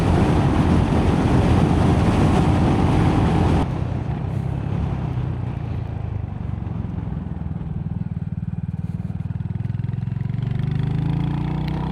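A Royal Enfield Hunter 350 motorcycle engine runs steadily and loud throughout, with a shift in tone partway through as the ride continues.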